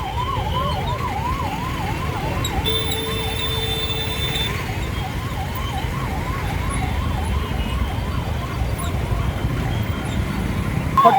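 An ambulance siren wails in a steady rising-and-falling pattern throughout, mid-distance, over dense traffic rumble and engine noise during a jam on the Mango bridge in Jamshedpur, Jharkhand.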